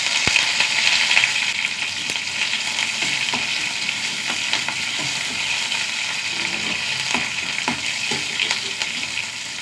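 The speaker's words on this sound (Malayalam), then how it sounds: "ഉള്ളി നന്നായി മൂത്ത് വരട്ടെ." Sliced small shallots fry in hot coconut oil with two sprigs of curry leaves, giving a steady, loud, dense sizzle with scattered crackles and pops throughout and no voices.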